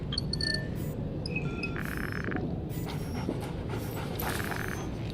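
The dog Riley in Call of Duty Ghosts pants steadily and close by, a continuous breathy rhythm over dense game ambience with no talk.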